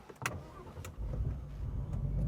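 A car engine cranks and catches after a couple of sharp clicks, then settles into a steady low idle that stays fairly quiet and close.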